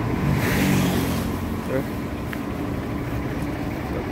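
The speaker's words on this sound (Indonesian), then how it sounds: "motor grader" Caterpillar Cat 140K motor grader engine running at a steady low rumble, heard from a short distance, with someone speaking briefly over it.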